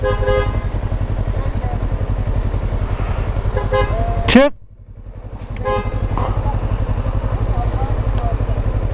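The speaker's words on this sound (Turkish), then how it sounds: "Abi adam korna basıyor bu umursamıyorlar bile." A car horn blares once, loud and close, over steady engine and road noise, followed by a short lull before the traffic rumble returns.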